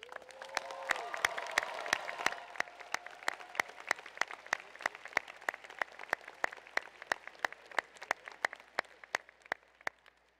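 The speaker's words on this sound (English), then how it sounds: "Let's have a round of applause for your family and friends" Applause at a business school graduation ceremony, with a brief cheer early on, then sparse claps in a steady rhythm, the sound fairly faint and distant, as in a large hall.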